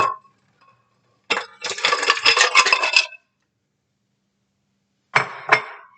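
Ice cubes for a homemade Orange Julius tumble into a container in a few close, loud bursts of hard clinking and rattling, with a quiet gap before two shorter clatters near the end.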